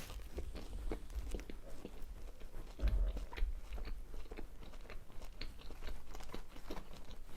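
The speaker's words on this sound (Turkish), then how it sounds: "Bir ısırımızı daha alalım şöyle." Someone bites into and chews a tantuni wrap at close range, soft crunchy bites and wet chewing continuing steadily and quietly without talk.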